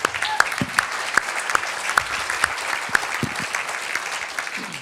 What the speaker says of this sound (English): So big round of applause for Jeremy.